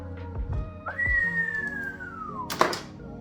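A T51R turbo with an 11-blade compressor wheel on a Pulsar 3582R lets out a clear whistle that rises quickly, then slides steadily down in pitch over about a second and a half before ending in a sharp thunk, heard over low background rumble.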